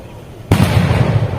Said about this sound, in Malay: So kita boleh tengok meriam di sekeliling bendang ni.